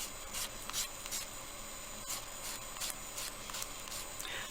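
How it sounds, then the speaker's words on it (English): Polymer clay earring with black diamond glitter being sanded by hand, a steady soft rasping rub with repeated strokes, close and fairly quiet, no voices. "at this point all you're wanting to sand is the polymer clay"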